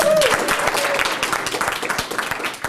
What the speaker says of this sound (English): applause for our program director